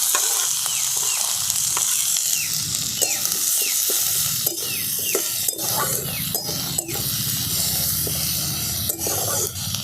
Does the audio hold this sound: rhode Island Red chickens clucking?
no